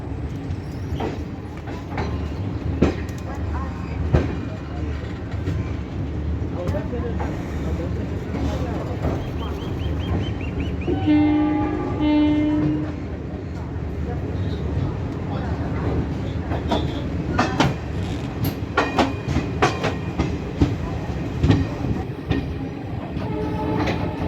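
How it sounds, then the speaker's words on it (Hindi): A Garib Rath express train rolls along the tracks after leaving a station, heard from on board as a steady rumbling roar with rhythmic wheel clatter and a brief horn tone midway, while someone talks over it. "अभी हमारी ट्रेन जो है डिपार्चर कर चुकी है, ज़्यादा देर रुकी नहीं है यहाँ पे और डिपार्चर कर चुकी है"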